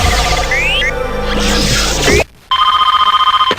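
A telephone rings loudly in a noisy scene layered with electronic tones and music, then after a sudden brief cut a steady pulsing ring repeats in quick regular bursts.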